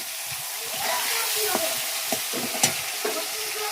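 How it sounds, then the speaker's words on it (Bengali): Steady hissing sizzle of fish frying in oil, close and constant, with a few sharp scrapes and clacks of a spatula. "সবাই দেখতে পাচ্ছ আমি এখন মাছ ভাজছি।"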